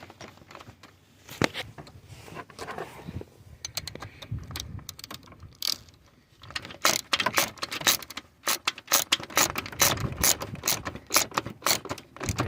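Metallic clicking and ratcheting as a bolt is tightened on the throttle body of a 2010 Honda CR-V, a close, irregular series of sharp taps and rattles with a brief pause partway through, no talking.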